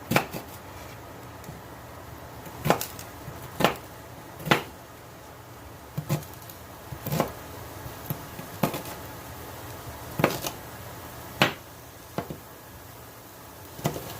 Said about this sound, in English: I'm going to go in with the shallot as soon as I chop it up.